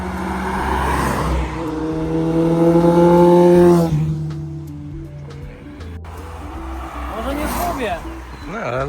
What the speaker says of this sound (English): This thing's got a turbo 4-cylinder in it and an 8 HP.